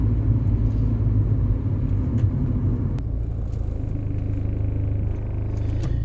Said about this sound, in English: Let's take this car on a slightly longer drive.